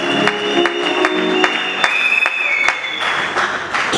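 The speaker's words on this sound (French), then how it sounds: "Est-ce que vous pouvez applaudir pour la soeur?" An audience at a revival church gathering claps for a sister, brisk applause with sharp individual claps standing out over a sustained tone, thinning slightly toward the end.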